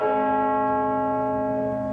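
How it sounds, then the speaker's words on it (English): A church bell tolls in mourning for Queen Elizabeth II in the United Kingdom, ringing out one full, resonant tone that hangs and slowly fades, loud and clear with no voices. "Bells also tolling in many towns."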